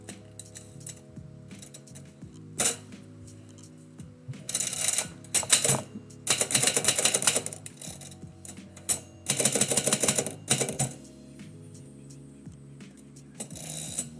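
Manual typewriter typing, bursts of rapid clacking keystrokes separated by pauses and single clicks, close and clear, alone without talk.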